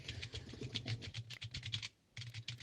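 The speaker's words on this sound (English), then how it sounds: "you fucking punch them keys" Rapid computer keyboard typing with hard, forceful keystrokes in a fast, uneven clatter, close and fairly loud, with a brief pause near the end before the typing resumes.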